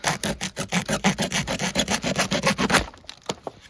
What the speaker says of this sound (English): the last tool from the outside of the multi-tool is the saw. So let's see how good this saw is.